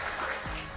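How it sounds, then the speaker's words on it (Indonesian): An audience claps steadily at an Indonesian cooperative economy event, a short continuous patter of applause with no pauses. "Boleh diberikan tepuk tangannya lagi?"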